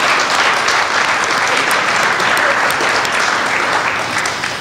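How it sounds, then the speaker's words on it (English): Steady, dense applause from a large conference audience, loud and sustained throughout with no pauses, tapering slightly at the very end. "can we give them a round of applause?"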